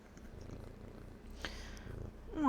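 A sleepy cat purrs softly up close, a low continuous rumble with a brief rustle partway through and a faint higher voice-like sound at the end.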